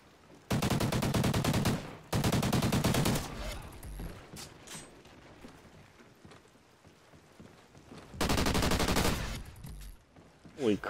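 Bursts of Vector submachine gun fire in a multiplayer video game: three long rapid automatic volleys, loud and close, separated by quieter stretches of game ambience, with no talking.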